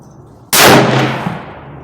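A single sharp rifle shot from a Tikka T3X Lite firing Winchester Power Point 150 grain ammunition at a target, loud and close, with the report rolling off in a long echoing decay.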